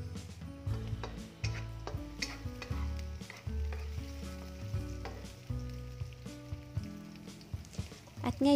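Chopped onion hits a hot frying pan after the shrimp for chop suey, a soft sizzle under repeated scraping and clinking of a spatula stirring, close and fairly quiet throughout.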